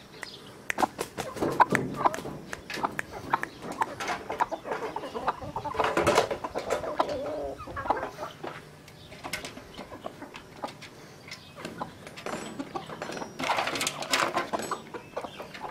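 Aseel chickens cluck and call in a village setting, a scattered mix of close and farther bird sounds with rustling and bumps throughout.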